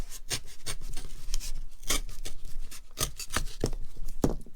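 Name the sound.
blade cutting around the mark on a paper mache pumpkin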